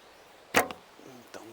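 A lightweight arrow without a tip is loosed from a Falco Myth bow, giving one sharp, close snap followed by a fainter, briefer knock a moment later.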